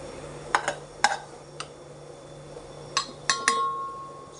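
A metal spoon scrapes and clinks against a pan and serving bowl as freshly cooked eggplant fry is scooped out with the stove switched off. Several sharp, scattered clinks come close up over a faint steady hum.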